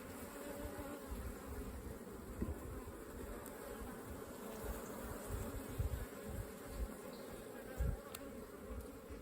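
Honeybees buzz continuously around an open hive during a spring beekeeping check, a steady, dense, fairly close drone with occasional louder passes of single bees and no talk.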